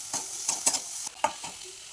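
A spoon stirs boiled corn kernels with chili powder and spices in a hot pan, giving a few quick scraping, clattering strokes over a soft sizzle, close and fairly quiet, with brief pauses between strokes.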